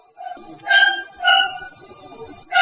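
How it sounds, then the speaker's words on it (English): Dogs barking outdoors in Vellore, Tamil Nadu, India: three loud, close barks in a spaced, repeating pattern over faint background noise. "It's the dogs. He practices every day. Barking practice."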